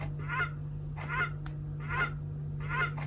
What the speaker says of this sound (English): at every hour, whatever the bird is at that time, it makes the noise